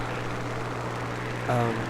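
A Spitfire Mk VC fighter in War Thunder drones with a steady, continuous propeller-engine hum that swells slightly louder near the end, with harmonic tones rising over the constant roar.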